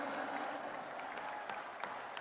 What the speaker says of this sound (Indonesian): Tepuk tangan sekali untuk Bapak Anies Baswedan.